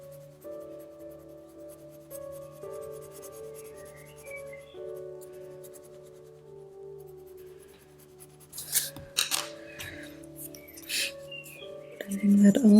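Colored pencils in dark and light gray scrape and rub across paper as the gray is blended, a soft scratching that builds toward the end over quiet background music.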